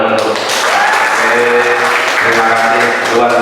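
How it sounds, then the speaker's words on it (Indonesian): A school audience of teachers claps in steady, dense applause that fills the room, loud and close, with voices mixed into the clapping. "Tepuk tangan dong."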